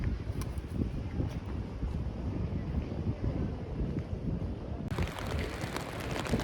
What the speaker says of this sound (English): it's a little more windy today, so I feel like it's gonna take my umbrella.